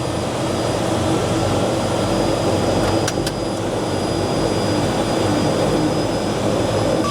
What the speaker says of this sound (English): that jet engine will make things hot up here